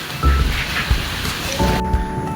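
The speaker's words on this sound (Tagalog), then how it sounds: "Blessing yung ulan na yan." Steady rain pours onto the roof of a house under construction, a dense hiss with low rumbling patter, loud and close, with no talk over it.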